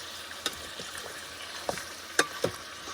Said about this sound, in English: we want to saute this until it's browned